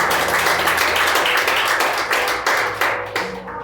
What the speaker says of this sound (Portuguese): Bate as palmas bem forte para Jesus